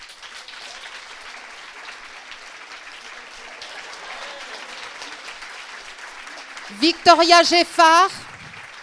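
Audience at a French university graduation ceremony for the 2017-2018 class clapping steadily throughout, a broad crowd wash, with a voice announcing a name near the end over it.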